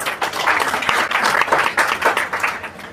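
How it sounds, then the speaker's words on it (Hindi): A seminar audience breaks into dense, lively applause, many hands clapping together close by for a few seconds with no break. "ताली बजा दीजिए एक बार"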